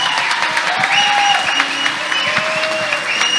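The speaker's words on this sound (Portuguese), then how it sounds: "Uma salva de palmas para eles." An audience gives a round of applause at a 2023 recital, loud, dense clapping from a crowd that carries on steadily while faint voices and whoops rise over it.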